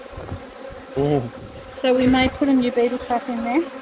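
Honeybees hum around an opened hive during an inspection, a steady buzz running under close conversation.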